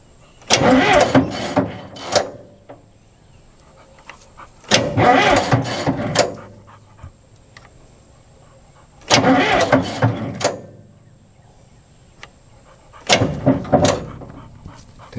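A Caterpillar 941 Traxcavator diesel engine with glow plugs is cranked in four separate bursts, each lasting a second or two and separated by quiet pauses, loud and close.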